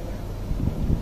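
The outdoor unit of a newly installed air conditioner using R22 refrigerant runs in heating mode, giving a steady, low, breathy fan rush close by with no distinct mechanical noise.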